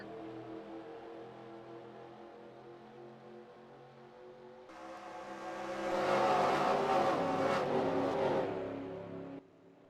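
Stock cars rolling at Daytona in an online racing game: a field of engines drones steadily, then swells into a loud roaring pack with tire noise before cutting off abruptly.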